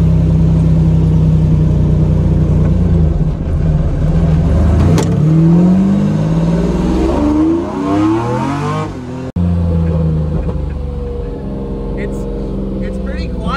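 Lamborghini Diablo SVR engine accelerating hard during a ride-along, a loud, close roar rising in pitch through the revs, with a sharp break at a gear change before pulling again.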